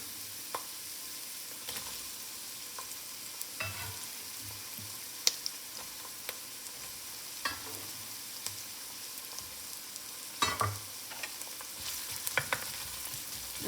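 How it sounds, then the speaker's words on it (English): Chopped onions sizzle and crackle steadily in hot oil in a pot, a quiet continuous fry broken by occasional sharper pops and spatters, with no talking. "My onions are chopped. My oil is hot."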